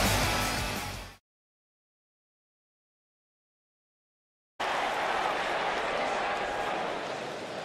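Arena crowd applauding after a match in WWE 2K19, a broad steady roar of claps and cheers that cuts out briefly to silence, then returns at full level and holds.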